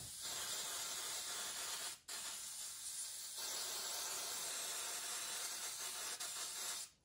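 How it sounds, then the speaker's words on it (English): Long, loud bursts of aerosol hairspray hissing close by onto model HO-scale pine trees, with a brief pause between sprays and a quieter dip midway. "And you'll hear the hairspray here in a second."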